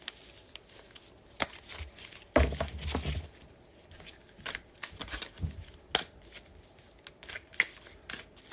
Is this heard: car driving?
no